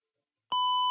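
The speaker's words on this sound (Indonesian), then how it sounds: "di sini buzzer sudah menyala." An electronic alarm buzzer in a multi-sensor control and monitoring system, triggered by a simulated earthquake, switches on after a moment of silence and sounds a loud, steady continuous beep tone.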